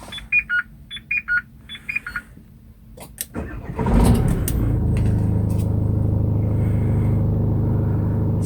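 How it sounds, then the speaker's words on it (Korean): A Renault Master 15-seater van engine cranks and catches after a few dashboard beeps, then settles into a steady, loud, low idle rumble that continues to the end. "지금 제가 시동을 켜서 차가 몇 킬로 탔는지 한번 볼게요."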